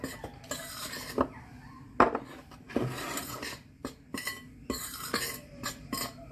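A spoon scrapes and taps against a bowl while zlabia batter is stirred after salt and yeast go in, in irregular close strokes with sharp clinks, and no voices.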